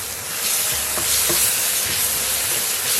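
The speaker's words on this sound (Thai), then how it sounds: "กระเทียมกับขิงนะครับผม ปั่นรวมกันนะครับ ใส่ไปหนึ่งช้อนโต๊ะนะครับผม" A blended garlic and ginger paste frying in a pan, a steady loud hiss and sizzle filling the whole clip with a few faint stirring knocks, close up.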